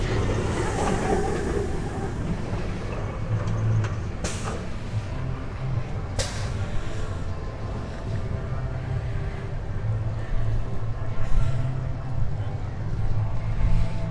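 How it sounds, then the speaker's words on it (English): At Universal Studios CityWalk, the Rip Ride Rockit roller coaster runs past as a continuous low, distant rumble over busy outdoor ambience, with a couple of brief sharper rattles. "you get a really good look at the Rip Ride rocket coaster. There it goes."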